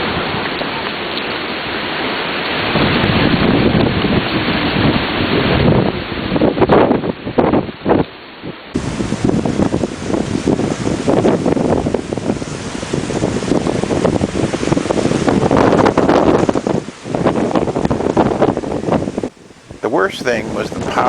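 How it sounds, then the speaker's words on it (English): Loud, continuous wind roars and buffets the microphone with rushing, rain-like hiss, briefly dipping a few times before surging back. "I think it's windy out there."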